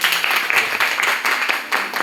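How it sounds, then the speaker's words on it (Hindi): Audience clapping after a poetry recital at a girls' intermediate college programme, a dense steady burst of applause lasting throughout, fairly loud and continuous with no voices. "बहुत सुंदर जोरदार तालियां"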